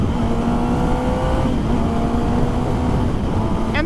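A 2021 Kawasaki ZX10R motorcycle engine drones steadily at close range, wind-blown and continuous, with a brief rising shift-like burst near the end.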